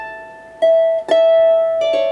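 A solo melody from the Atholl Highlanders March holds long steady notes broken by quick, light grace-note ornaments, played clearly and close with no talking.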